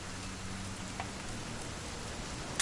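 Steady rain falls in the video game What Remains of Edith Finch, a soft continuous hiss of drops on surfaces throughout, fairly quiet, with a brief clatter near the end.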